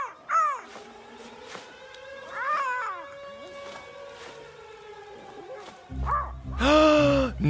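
A seagull caws repeatedly in the fishing game I Am Fish, with harsh rising cries spaced through the moment over game music, ending in a louder burst.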